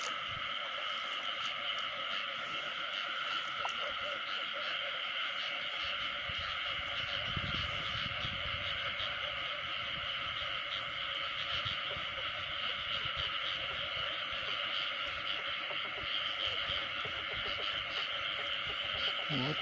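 A dense chorus of frogs croaking in a field at night, a continuous shrill wall of overlapping calls that holds steady throughout, with no pauses.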